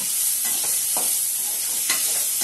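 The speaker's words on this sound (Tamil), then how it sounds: "நறுக்கி வச்ச தக்காளி இருக்கு இல்லையா, ஸோ அதை வந்து போட்டுட்டு நல்லா வதக்கி விடணும்" Steady sizzling of chopped tomatoes sautéing in a hot pan with a few scraping stirs, the frying hiss continuous and close throughout, no voices.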